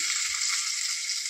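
Asafoetida, dried red chili and curry leaves sizzle in hot oil as a tempering for cucumber chutney, a bright, steady hiss that holds evenly and then cuts off abruptly.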